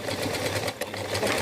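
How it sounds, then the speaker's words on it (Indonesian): A sewing machine stitches a waistband onto fabric, its motor whirring in a steady, close, continuous run with one brief slackening partway through. "baru kita jahit menggunakan mesin jahit"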